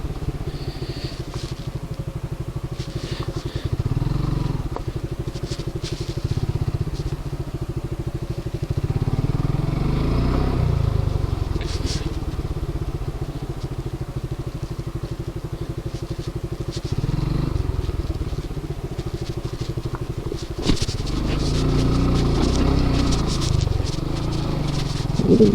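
A motorcycle ridden solo along a road near dams and waterfalls around Pune, its engine drone steady and close with wind buffeting and light rattling throughout, no talk.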